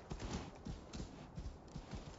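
Horse hooves clip-clopping in the video game Assassin's Creed Valhalla, a steady rhythmic trot of repeated soft thuds over ambient game background, with no talk over it.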